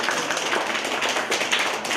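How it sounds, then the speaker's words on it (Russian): An audience at a quiz game show breaks into dense, steady applause, a broad wash of clapping from many hands sustained for a couple of seconds. "Аплодисменты команде."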